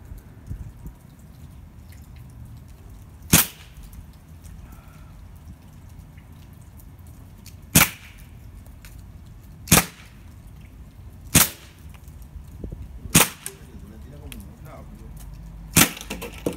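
Cheap toy gun fired six times in a row, each shot a sharp isolated snap a few seconds apart over a quiet background.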